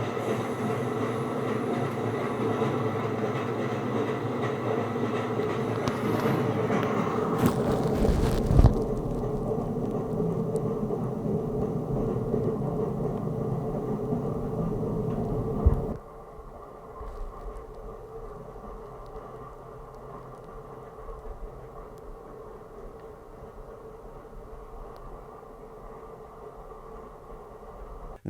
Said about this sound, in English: I'm going to play an audio sample which simulates the noise you'd hear on a train